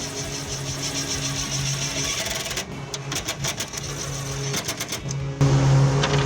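Power driver turning metal screws with rubber washers into a wheel well storage box on a 2005-2023 Toyota Tacoma, a steady motor whine that rises to a louder, harsher buzz near the end.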